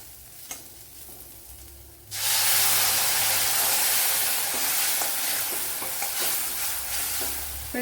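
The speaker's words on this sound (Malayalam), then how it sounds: "ഇനി ഇതിലേക്ക് കുറച്ചോളം ചൂടുവെള്ളം ഒഴിച്ചു കൊടുക്കുക" Hot water poured into a frying pan of onions seasoned with pepper powder sets off a sudden loud, sustained sizzle and hissing steam that continues strongly after the pour, close up in a home kitchen.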